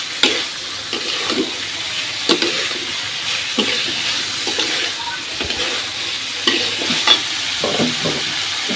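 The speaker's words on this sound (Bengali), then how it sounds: "এবার আমি দিয়ে দেবো হলো কচুরলতিগুলো সুন্দর করে কষিয়ে নেবো" Taro stolons (kochur loti) stirred and fried in a pan, with steady sizzling broken by repeated scraping stirs of the spoon, close and fairly loud, no talking.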